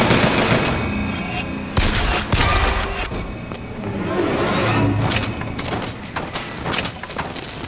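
Gunfire in BioShock Infinite: loud bursts of rapid shots and heavy thuds rising over a noisy battle backdrop, with sharp cracks clustered near the start and more scattered shots toward the end.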